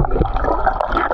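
Someone jumping into brackish water at an outdoor swimming spot makes a brief, close splash followed by a quick watery gurgle.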